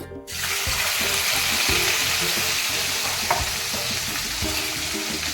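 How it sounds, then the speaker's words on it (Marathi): Crushed green chilies hit hot oil with a loud burst of sizzling, then sustained close crackling and spattering with occasional stirring knocks, no talking. "हे बघा आपलं तेल गरम झालेलं आहे. तर मी याच्यामध्ये मिरची टाकते"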